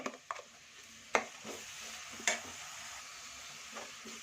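Ground masala frying in a pan for raw mango chitranna, a soft sizzle under a few sharp spoon clinks and scrapes against the pan, close and quiet with no talk.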